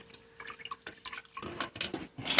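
Orange juice squeezed by hand drips into a pot of brine water, then the orange half drops in: small close wet drips and trickles followed by a louder splash at the end.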